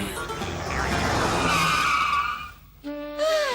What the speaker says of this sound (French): Tiens, une voiture.